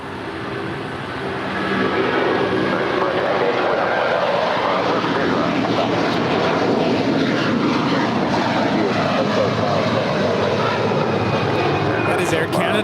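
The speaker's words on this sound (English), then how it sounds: "That is Air Canada 774 departing to Montreal in an 11-year-old Airbus A330-300." Air Canada Airbus A330-300, an 11-year-old airliner, departs LAX bound for Montreal, its engine roar swelling after a couple of seconds and holding loud and steady, with a voice talking over it.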